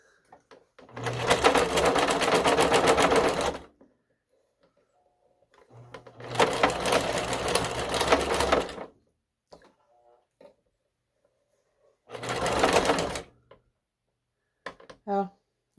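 A sewing machine stitches fabric for a Wednesday Addams dog costume in three close, steady mechanical runs, two long and one short, separated by quiet pauses.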